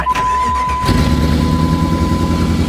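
A car engine cranks over and starts, then settles into a steady, rumbling idle with a rough exhaust note from a leak, loud and close, with no talk over it.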